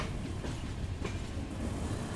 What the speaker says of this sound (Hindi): और ये आबू रोड का एल्को लोकोमोटिव